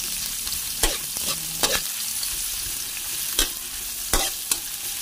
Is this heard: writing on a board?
no